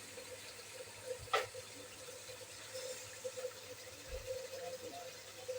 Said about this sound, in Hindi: और हरी मिर्ची भी अभी धो रही हैं।